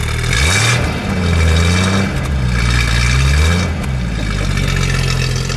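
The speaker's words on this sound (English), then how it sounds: "Mike, give it a rev, please." A 1971 Ford Maverick Grabber engine revs up twice in succession, rising and falling in pitch with a throaty roar, loud and close, then settles back.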